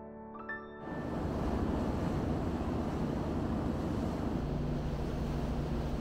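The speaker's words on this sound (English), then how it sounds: "This is the ocean surrounding the airport." Steady broadband ocean wash and surf around a seaside airport, continuous and fairly loud after a quiet start, with wind rumble on the microphone.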